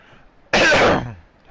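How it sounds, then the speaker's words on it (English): Loud, close throat clearing, a single harsh rasping burst of about half a second from someone playing Ni No Kuni, set against a quiet background. "Keep having to clear my throat."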